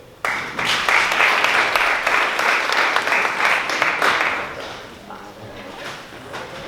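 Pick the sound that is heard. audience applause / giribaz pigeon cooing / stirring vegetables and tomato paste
audience applause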